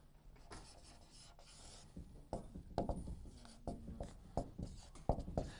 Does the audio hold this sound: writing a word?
yes